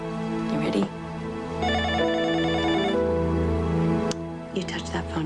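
A telephone rings with repeated bright electronic trills under and between people talking nearby, fairly loud and close.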